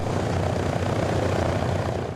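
A vintage propeller airplane, more than seventy years old, drones with a steady, loud, low engine roar that stays continuous throughout.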